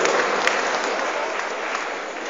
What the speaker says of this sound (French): notre fidèle ami Hubert Georgis, que je vous demande d'applaudir